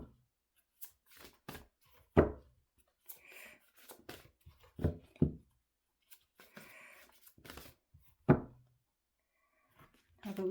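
Soft riffling and flicking of cards in several short bursts, spaced apart in a quiet room with faint murmuring between them.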